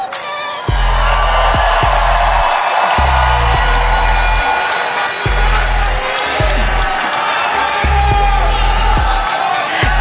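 A large crowd cheering at the Miss Universe 2023 preliminary competition in El Salvador, loud sustained roar and shouts over booming, pulsing pop music that plays throughout.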